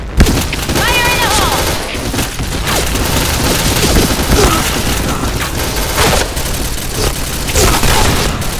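Grenades explode in a video game amid rapid gunfire, with dense repeated booms and bursts throughout, loud and close, overlapping game voices and shouting.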